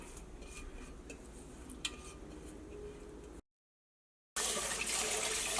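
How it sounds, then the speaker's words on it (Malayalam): Rice ada for palada rinsed by hand under running tap water in a kitchen: a soft, steady trickle with light clinks of a vessel, a brief silent break, then a louder, fuller rush of water. "ഈ വെള്ളത്തിൻ്റെ അടിയിൽ കാണിച്ചിട്ട് ഇതേപോലെ നന്നായിട്ട് കഴുകിയിട്ടെടുക്കുക."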